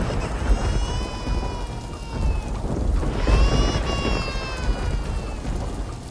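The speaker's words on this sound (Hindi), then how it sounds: "बारिश की आवाज़ थोड़ी धीमी पड़ गई" Heavy rain pours steadily on a stormy night with a dense, continuous wash of drops, its intensity swelling midway, while faint tonal sounds drift in the background.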